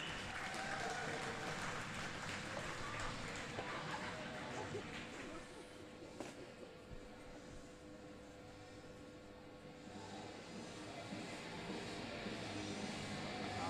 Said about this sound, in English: Keep that round of applause going for West Coast Bombers